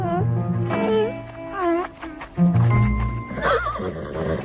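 Horse whinnies loudly in two rising-falling calls, then snorts and shifts with a few hoof clops, close and clear, with no speech over it.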